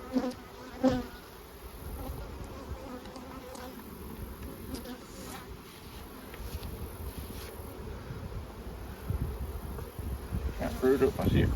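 Honeybees swarm around an open beehive during an inspection of the brood frames, making a dense, steady buzzing hum close by that swells slightly toward the end.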